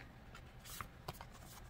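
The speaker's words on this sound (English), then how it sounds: "These are a little harder to shuffle, so I just fan these big ones out." Oversized tarot cards rustle and slide as they are handled and fanned out, a soft papery shuffle with a couple of light taps, quiet and close.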